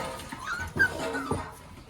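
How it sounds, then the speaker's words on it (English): Five-week-old puppies whimper and whine in a few short, high, wavering cries, close and fairly quiet, with small snuffling sounds between them and no talking. "Puppies, 5 weeks old."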